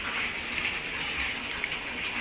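Hot water gushing steadily into a 600-litre dairy milk vat on a New Zealand farm during a vat wash, a constant, close, hissing rush with no pauses or voices.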